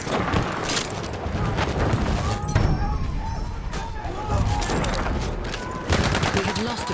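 Dense machine gun fire mixed with grenade blasts in the video game Battlefield 1 on the Cape Helles map, a constant loud battle din with sharp cracks and low booms, with voices calling out over it.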